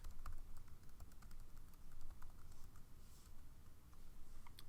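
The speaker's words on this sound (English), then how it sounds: "Just going to click and type." Typing on a computer keyboard while working in Adobe Illustrator, a steady patter of quiet, close key clicks running without pause through the whole stretch.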